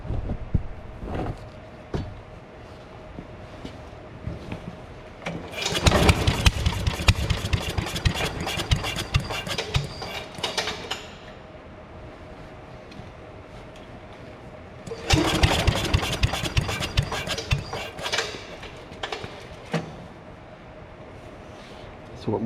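An 8 HP Briggs and Stratton chipper engine, idle for ten years, is pull-started twice: two bursts of sputtering engine noise, each lasting about five seconds and dying away, separated by quieter stretches with scattered clanks.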